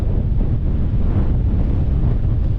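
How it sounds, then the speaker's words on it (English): Strong wind buffets the microphone in a constant low roar, with rumbling gusts throughout and no voices. "It's a shame it is so windy, really"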